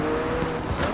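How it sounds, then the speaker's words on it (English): A McLaren 12C drives past, steady engine and tire noise holding throughout, fairly loud and close, with a faint whistle-like tone sliding down over the top. "Now, this car doesn't sound like a McLaren 12C at all."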